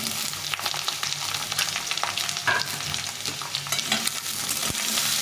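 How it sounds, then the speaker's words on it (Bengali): Drumsticks and potatoes fry together in a pan with a loud, continuous sizzle and repeated scraping of a spoon as they are stirred. "সজনা আর আলুটা একবারে একসঙ্গে ভেজে নেব"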